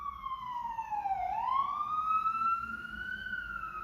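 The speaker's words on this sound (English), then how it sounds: "The sirens are going crazy in New York." A wailing emergency siren dips and then rises again in long sweeping tones, loud and fairly close, with traffic rumble underneath.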